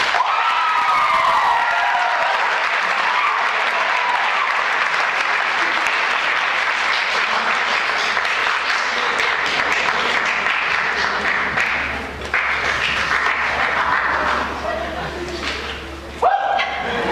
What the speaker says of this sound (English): please give Shelby a round of applause